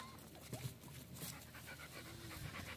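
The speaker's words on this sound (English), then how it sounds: "I see one little puppy right there." A small puppy pants quickly and steadily and lets out a few faint whimpers, heard at a distance under a constant noisy outdoor background.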